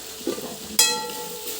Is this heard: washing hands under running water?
no